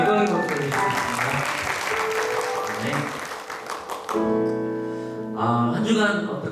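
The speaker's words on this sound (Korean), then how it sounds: "우리 반석이신 하나님께 영광의 박수를 드리겠습니다" A church congregation at a Korean Sunday worship service claps together in praise to God, steady applause mixed with music and voices that quickly gives way to a speaker.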